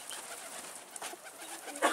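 Pigeons cooing softly outdoors during a street chase after an escaped bird, faint low calls with a brief flutter near the end.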